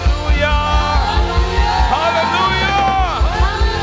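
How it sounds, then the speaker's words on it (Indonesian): A church congregation shouts hallelujah together during a worship service, a loud, dense mass of voices rising over ongoing music. "Teriakan haleluya."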